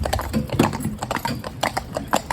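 Gelderlander horses walk along, hooves clip-clopping in a steady, relaxed rhythm at close range, with faint background noise and no clear talk.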